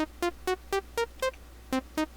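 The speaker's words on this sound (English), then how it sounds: "So if I play that, you'll get an idea of what it sounds like." A C blues scale pattern from a Reason Matrix sequencer plays as evenly spaced short synth notes that step up and back down in a steady rhythm, clean and alone.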